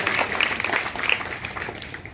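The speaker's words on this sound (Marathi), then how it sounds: "हिच्यासाठी पण टाळ्या वाजवा." An audience at a school talk on child-marriage law breaks into brief, dense applause, many hands clapping at once for a couple of seconds, fairly loud and close.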